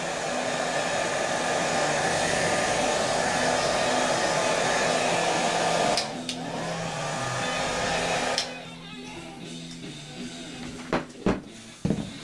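A heat gun shrinking covering film on an RC plane blows with a loud, steady roar for about eight seconds, then cuts off, leaving a few faint clicks and taps.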